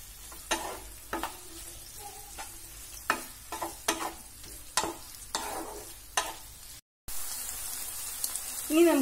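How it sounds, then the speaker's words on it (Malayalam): Okra masala with turmeric powder is stirred in a hot pan, with repeated scraping strokes of a spoon against the pan over a faint sizzle, then a short cut and a louder frying hiss at the end. "ആ ചേർത്തിട്ടൊന്ന് മിക്സ് ചെയ്യാം."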